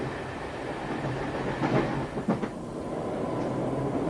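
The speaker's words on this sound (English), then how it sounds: "Some people go by train." A train passing, a rumbling rolling sound with a brief swell and a couple of clattering bumps near the middle, moderately close, with no talking.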